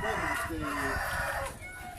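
A fighting cock at a Spanish-speaking rooster breeder's yard crows loudly and close, its call held across most of the moment over background murmur.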